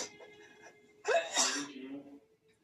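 A woman sneezes once, sharply and close, during a sneezing fit, with a short breathy intake before it and a fading tail afterward; no talking.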